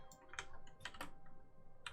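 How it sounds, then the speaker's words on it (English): Computer keyboard keys struck in short, irregular clicks and small bursts while a Control-V paste shortcut is pressed repeatedly, heard close and fairly quiet with no talking. "I keep clicking Control V"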